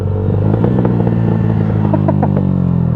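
A Yamaha YZF-R 125 four-stroke motorcycle with a de-baffled exhaust idles and blips close by, a loud, raw, crackling engine note that runs steadily throughout.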